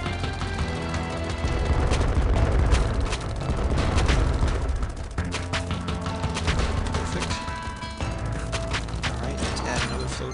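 Gatling gun fire in the OTTTD tower defense game, a continuous, dense rattle of rapid shots mixed with booming explosions and clanking effects, loud and unbroken throughout.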